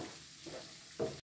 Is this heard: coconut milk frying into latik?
yes